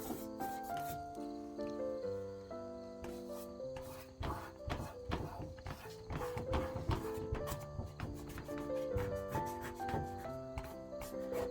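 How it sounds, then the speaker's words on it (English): Hand rubbing paint off a textured drop ceiling panel, a close, continuous scraping and scrubbing with rapid irregular strokes, heard alone with no speech. "It seems a shame to rub this off after I worked so hard to get it on"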